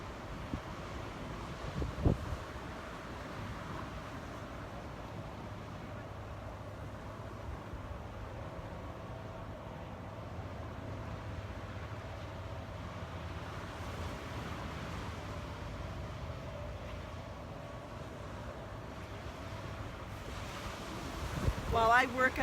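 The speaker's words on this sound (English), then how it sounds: "the sound of the waves" Ocean waves wash onto a beach at sunrise, a soft continuous surf rumble mixed with wind noise on the microphone, steady and moderately distant throughout.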